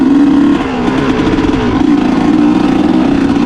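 A ridden trail vehicle's engine idles roughly and revs, loud and close throughout. The throttle dips briefly near the start, then holds a steady, rough drone with no talking.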